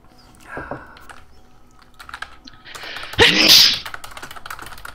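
A single loud sneeze from a person, with keyboard typing and clicking at a gaming desk around it and a brief murmur of voice.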